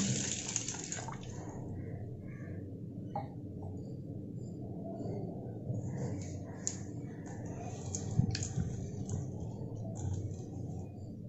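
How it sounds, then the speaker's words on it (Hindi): Toor dal being rinsed with water before cooking sambar: continuous close splashing and swishing of water in a vessel, steady throughout with a few louder sloshes and drips, without speech. "इसे पानी डालकर अच्छे से वॉश कर लेंगे"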